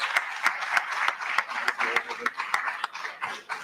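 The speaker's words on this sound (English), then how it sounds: "Please give him a round of applause." Audience applause at the Baltimore Teacher Network 2022 gubernatorial debate as the network president is introduced: an indoor crowd claps steadily with sharp individual claps, with light chuckles mixed in.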